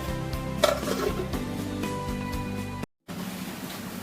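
A cooking pot's lid is lifted off a simmering Bengali desi chicken and potato curry, a metallic clatter and scrape of cookware over steady stirring and a sizzling bubble, followed by a brief cut to quieter simmering.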